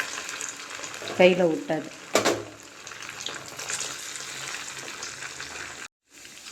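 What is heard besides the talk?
rice bonda balls frying in hot oil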